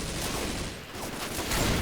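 Dense, continuous gunfire from the co-op zombie shooter Left 4 Dead 2, played on a hard difficulty in rainy conditions, comes as a loud, unbroken barrage with no clear gaps.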